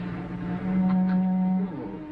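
A single long, low bleat from a goat, loud and close, drawn out for about a second with no talking.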